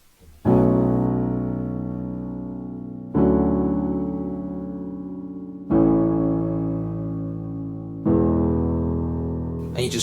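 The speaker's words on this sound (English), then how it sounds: "so the next part of the song we've got the chorus" Piano playing the chorus of a song: four sustained chords struck about every two and a half seconds, each ringing and slowly decaying, close and clear with no voice over them.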